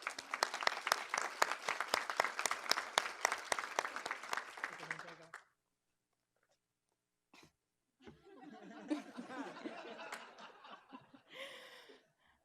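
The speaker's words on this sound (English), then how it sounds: "If I may just ask that we give our keynote speaker one more round of applause." A conference audience claps for a keynote speaker at an academic senate meeting, a loud burst of applause for about five seconds that stops abruptly, followed by a pause, then scattered chuckles, murmurs and a cough.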